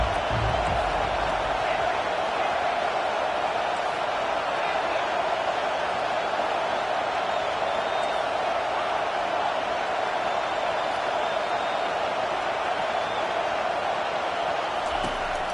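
A stadium crowd at a college football game, Michigan against Oklahoma, roars in a steady, dense wash of cheering that holds at the same loud level throughout, with no breaks.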